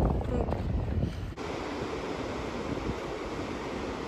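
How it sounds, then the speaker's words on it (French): Strong wind buffeting the microphone on a surf beach on Portugal's west coast at Praia da Arrifana, heavy gusty rumble at first, then settling into a steady rushing roar blended with distant surf. "il y a pas mal de vent"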